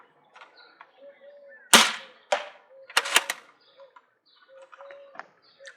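A toy foam dart blaster fires a magazine of darts, giving several sharp, close pops spaced about a second apart, with faint mechanical clicks and quiet background chirps between shots.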